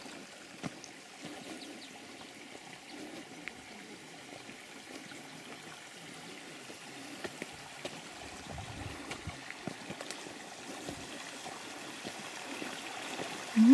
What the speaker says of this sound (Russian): Тут, конечно, такая красивая речушечка течет.